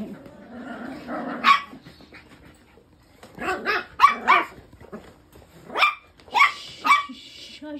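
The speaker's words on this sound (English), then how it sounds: "Who is that barking?" Several sharp dog barks come in bursts, a couple near the start and a cluster of rapid yips and barks later, close and fairly loud in a quiet early-morning room.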